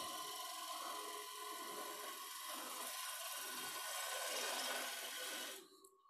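A wood lathe turns a wooden piece while a tool scrapes and rasps against it, a steady close grinding texture that carries on and then drops away abruptly near the end as the lathe stops.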